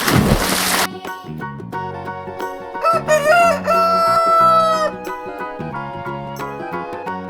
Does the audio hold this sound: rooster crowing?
yes